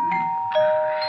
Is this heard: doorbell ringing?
yes